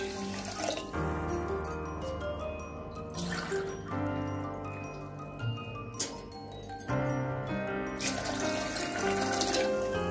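Tap water runs steadily into a pot of washed rice and black urad dal for pongal, a continuous splashing pour with slight dips in level throughout, close and alone.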